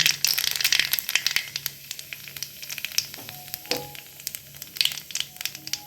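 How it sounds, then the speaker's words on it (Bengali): Black cumin seeds sizzling in hot oil in a pan while a pomfret fish curry is being cooked, giving a steady crackling fry with scattered pops and light stirring clicks. The sound runs alone throughout. "ওই তেলের মধ্যে প্রথমে কটা কালো জিরা করে নিলাম"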